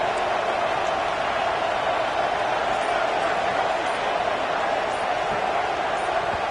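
A packed stadium crowd at a Baylor vs Texas Tech college football game roars in a steady, dense, loud wash of cheering that holds constant throughout.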